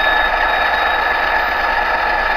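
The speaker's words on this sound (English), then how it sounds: "you can kind of hear how the diesel engine is notching up" A model diesel locomotive's sound decoder plays the engine notching up, a steady droning hum with tonal buzzing, close and constant with no talk.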